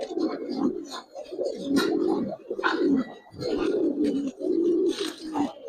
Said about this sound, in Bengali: ডাক অনেকেই পছন্দ করেন, কবুতর ডাকলে ভালো লাগে